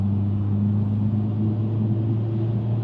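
A Subaru rolls along at highway speed while its brakes are applied to slow it, heard from inside as a steady low road-and-engine rumble with faint tonal drone and no speech.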